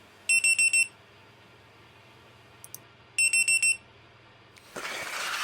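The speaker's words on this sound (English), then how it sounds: "So this is the Hellgate buzzer going off" A Hellgate drone finder buzzer beeps in two loud bursts of four rapid, piercing tones about three seconds apart. A short rustle and rising background noise follow.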